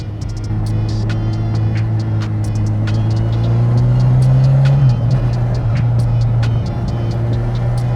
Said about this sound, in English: I think for only a slip-on, she sounds pretty good.